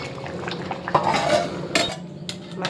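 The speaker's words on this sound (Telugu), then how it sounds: "మూత పెట్టేసుకోండి." A lid set onto a pot of khichdi made with masoor dal, with metallic clinks and clatters of cookware, a brief scrape and a couple of sharper knocks close by.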